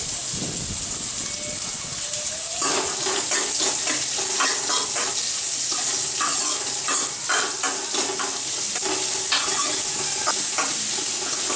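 Finely chopped onions fry in a pan for a fish gravy, a steady loud sizzle with rhythmic stirring scrapes throughout, close by and without speech.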